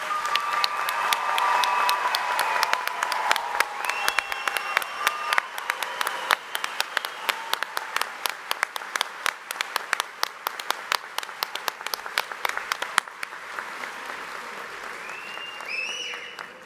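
A commencement audience at the COTC 2012 spring ceremony breaks into loud, sustained applause for the graduating candidates, a dense wash of many hands that thins toward the end into scattered individual claps.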